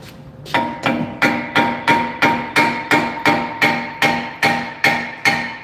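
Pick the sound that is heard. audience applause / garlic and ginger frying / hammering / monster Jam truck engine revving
hammering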